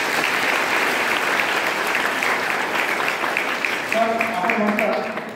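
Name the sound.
applause at convocation ceremony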